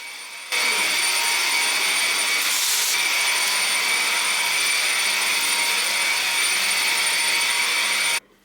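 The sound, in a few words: vacuum cleaner on hard kitchen floors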